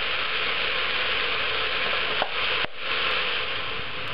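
Ox tripe frying in a pan with fish sauce, a steady, loud sizzle that runs throughout with a brief dip and small clatter near the middle.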